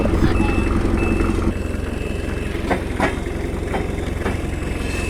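A cement-pipe delivery truck loaded with reinforced concrete pipes idles and pulls away, a steady low engine rumble near and loud with a repeating reversing beep over it and a few clanks.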